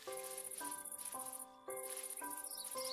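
A normal bee wandering without a hive in modded Minecraft gives a steady, pulsing high insect buzz over layered in-game music tones, continuous and fairly faint.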